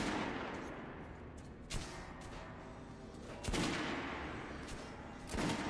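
Shotgun blasts in the game Metro Last Light at a shooting range: three loud, sharp reports spaced about two seconds apart over a steady noisy background, with no talk.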